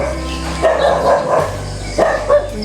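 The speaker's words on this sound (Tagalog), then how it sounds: "Eh, may aso." A dog barks several times outdoors on a muddy street, short yips spaced irregularly over a steady background, moderately close.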